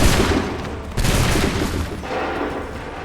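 Massed musket volley in an Assassin's Creed 3 battle at Bunker Hill, a loud, dense crackle of gunfire that swells again near one second and rolls on as continuous battle noise.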